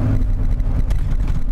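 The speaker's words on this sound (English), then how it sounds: "I'm driving down the road in old Crusty here, and it's actually driving a lot straighter than it was" An old Ford F150 pickup cruises down the road, a loud, steady low engine drone and tire rumble filling the cab with no break.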